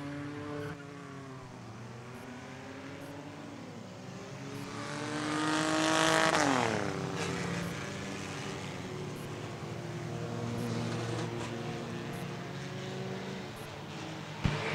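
Race cars at the start of an auto enduro race, engines droning together and swelling into a loud roar as a car rushes past close by, then settling back to a steady distant rumble.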